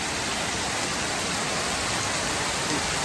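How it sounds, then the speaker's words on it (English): Hail falling steadily outside, a dense continuous hiss of hard pellets striking surfaces, even and unbroken throughout with no voices. "it's actually hailing."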